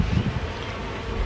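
Honey bees buzz during a late-May hive inspection, a low, close, continuous hum from many insects.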